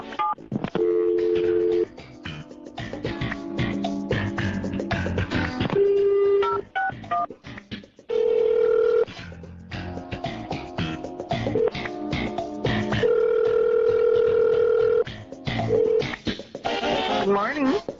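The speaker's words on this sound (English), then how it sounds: "You have to coordinate the dialing perfectly." Touch-tone phone keys dialed in rapid, uneven bursts of beeping tones, with short pauses between digit runs, heard on a radio show prank call with background noise and some voices mixed in.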